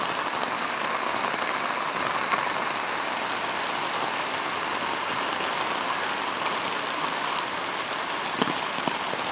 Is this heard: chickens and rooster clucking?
no